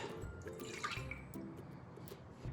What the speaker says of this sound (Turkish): Öncelikle geniş bir kaseye bir su bardağı ılık su, bir su bardağı ılık süt